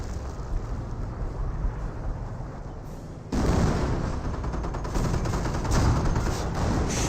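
An artillery barrage in the World War II strategy game Company of Heroes, a continuous crackle and rumble of gunfire that suddenly intensifies into a louder, denser volley of overlapping blasts and explosions.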